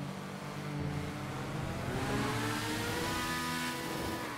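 A motorbike engine in the GTA video game revs and drones continuously, rising in pitch, at moderate level with no speech.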